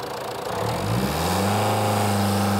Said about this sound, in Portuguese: Vou pedir para que acelere o motor ao fundo.